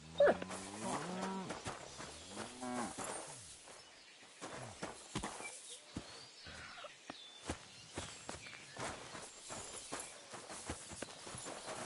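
A dog whimpers and yelps in short bursts early on, then scattered paw steps and light thuds follow at close range.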